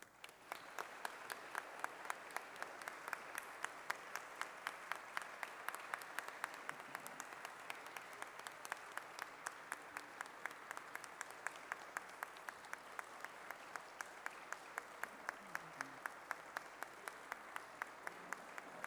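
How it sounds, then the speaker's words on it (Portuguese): An audience at a tribute ceremony honouring a judge gives sustained applause, a dense, even roar of many hands clapping that continues without a break for nearly twenty seconds, slightly distant. "devemos-lhes os sinceros aplausos"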